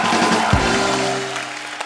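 A studio audience on The Kapil Sharma Show applauds, a broad wash of clapping that holds steady and then fades slightly, with a low musical sting sounding under it.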